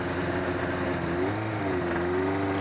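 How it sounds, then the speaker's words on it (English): Mercedes SLR McLaren V8 engine running steadily from close behind, a deep continuous drone with a slight pitch dip midway, no talk. "And the noise it makes, that deep V8 noise, that's awesome."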